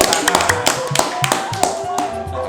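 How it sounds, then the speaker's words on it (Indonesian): A small group claps hands in a short burst, with sharp, irregular slaps over a steady background hum in an indoor setting. "Tepuk tangan."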